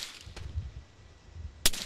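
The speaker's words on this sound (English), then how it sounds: "there's somebody shooting at us from below" Two sharp gunshot cracks from Arma 3 infantry combat: one moderate shot early on, then a louder, closer report near the end, with a quiet low rumble between them and no talking.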